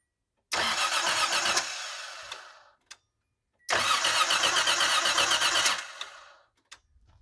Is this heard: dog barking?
no